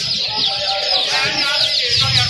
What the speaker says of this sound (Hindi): तो ये देखिए कितने खूबसूरत बर्ड्स हैं यहाँ पे, तोते कबूतर कितने खूबसूरत हैं।